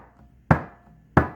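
A mridanga drum gives two sharp, dry closed strokes played with the fingertips, evenly spaced and close, each fading quickly.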